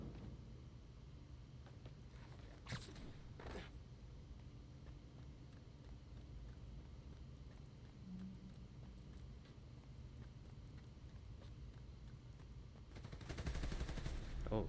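Quiet gunfire from the Spider-Man Miles Morales video game: a couple of sharp shots early, then a louder rapid burst near the end over a low, steady background rumble.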